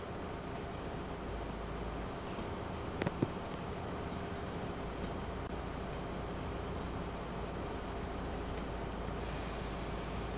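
RC44 diesel locomotives hauling a freight train through Oregon in the game Train Simulator Pro USA, a steady low engine rumble and rolling drone throughout, with a brief clank near the three-second mark and no talking.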